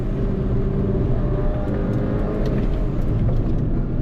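A 2013 Mini Cooper GP engine drones loud and close on a race track during heel-toe downshifts, a steady rough growl with slight revving and no talk.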